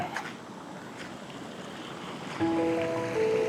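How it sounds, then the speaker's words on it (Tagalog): The strong current of a stream at Talon Pari Falls rushes in a continuous, broad wash of water, steady and close, with a faint tonal whine joining near the end. "Lakas din ng agos."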